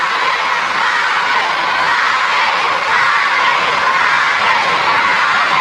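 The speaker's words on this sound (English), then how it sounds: "Crowd chanting Marquez, Marquez, Marquez as his supporters try to get him back into the fight." Boxing arena crowd at the Pacquiao versus Marquez fight, a loud, dense, continuous roar of many voices chanting and shouting in support of Marquez.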